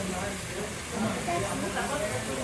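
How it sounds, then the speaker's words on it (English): Bulalo, a beef marrow soup, hisses and sizzles on a hot plate in a soft, continuous crackle while people talk excitedly nearby. "Oh, I thought it was soup, but it's not soup. It's a sizzling one."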